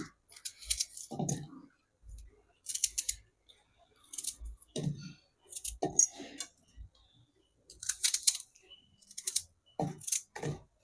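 Dried red chillies cut with scissors, giving sharp, crisp snips and clicks in short bursts separated by pauses, close and fairly clear.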